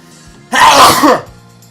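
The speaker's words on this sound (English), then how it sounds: "I'm gonna sneeze." A single loud, close sneeze in the video game Danganronpa V3: Killing Harmony bursts out after a quiet moment, then fades quickly.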